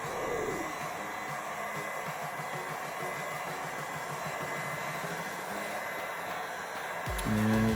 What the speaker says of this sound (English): let's find out by using the heat gun